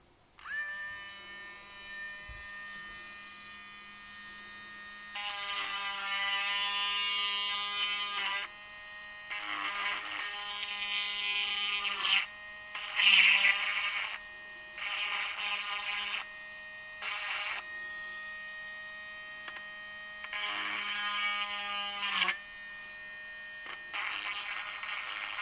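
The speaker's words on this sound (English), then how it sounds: "I use my Dremel on high, and I make one hole, a smaller one in the top of the egg and a larger hole in the bottom of the egg." A Dremel rotary tool running on high speed drills holes into an eggshell, giving a steady whining motor tone in several long bursts with brief pauses between them, close and fairly loud.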